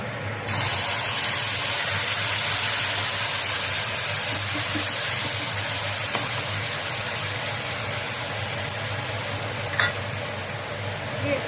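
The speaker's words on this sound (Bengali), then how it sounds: "এবার এই মশলাটা ঢেলে দেবো" Spice paste of ginger and cumin poured into hot oil with tempered whole spices, frying into a steady, close, loud sizzle with steamy hiss that holds throughout, a few faint stirring clinks near the end.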